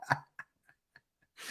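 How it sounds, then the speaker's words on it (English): A single short cough up close, followed by a few faint clicks and a breathy burst at the end. "Elbow cough."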